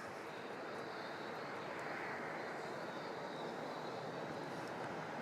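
A Qantas airliner, flight 484 to Sydney, takes off from runway 34 at Melbourne Airport. Its jet roar is a steady, distant broadband rush that holds evenly throughout and swells slightly at the very end.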